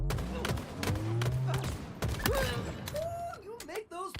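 Halo video game gunfire, rapid clattering bursts of shots mixed with mechanical creaks and game effects, dense and busy, with a voice talking over part of it.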